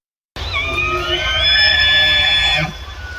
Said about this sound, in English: That is the sound of elk buggling as they wades through water in western North Carolina.